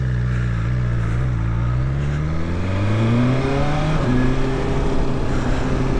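A 2020 BMW S1000XR motorcycle engine accelerates hard in second gear, its pitch climbing steadily, dropping at a gear change, then rising again, loud and close with no talking.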